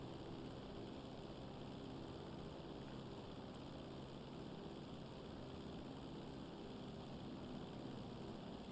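A propeller airplane engine in the game GTA Online drones steadily and evenly throughout, a continuous mid-level hum with no voices over it.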